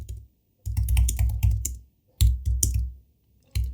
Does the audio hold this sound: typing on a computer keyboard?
yes